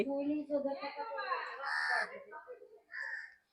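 A crow caws outdoors, a few harsh calls near the middle and end, while a voice talks over and around it.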